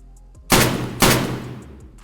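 A KelTec RFB .308 bullpup rifle fires two loud, close shots about half a second apart in Escape from Tarkov, each sharp crack trailing off into a reverberant tail.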